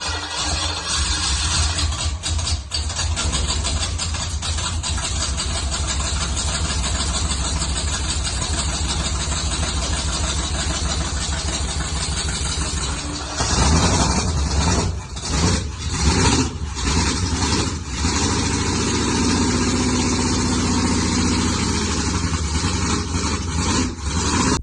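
A Holden V8 that sat unused for over ten years runs loudly up close, holding a steady rough idle before a sudden shift midway into choppier, uneven running with revs rising and falling.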